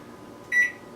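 A single short electronic beep from a kitchen timer being set while baking a holiday eggnog cake, clear and close over a quiet room.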